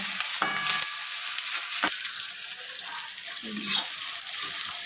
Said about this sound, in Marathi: इथं आपण कांदा टाकून घेतलेला